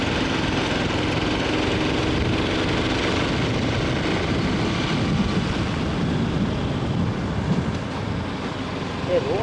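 An aging vehicle's engine labors uphill on a road toward a hill temple, a loud continuous drone with rumble and wind throughout and no clear talk.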